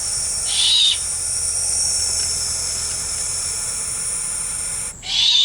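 Young owls in a nest hissing, a steady broad breathy hiss that runs almost unbroken throughout, loud and close, with a brief break near the end.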